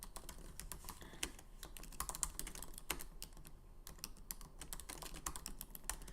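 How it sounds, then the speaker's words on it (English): Quiet typing on a computer keyboard as a question is entered, an uneven run of close, soft key clicks with no talking. "Or I can type in my own question."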